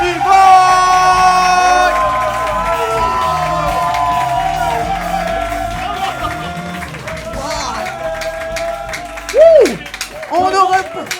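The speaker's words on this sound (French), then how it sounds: "Faites un tonnerre d'applaudissements pour Shirley Soignon et Rémi" A studio crowd on a French podcast bursts into cheering, whoops and clapping, loud and overdriven at the start, then settling under music and voices, with a sharp shout near the end.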